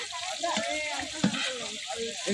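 Ginger garlic paste and tomato frying in a pan for a family village meal, giving a close sizzle and stirring scrape under talking voices.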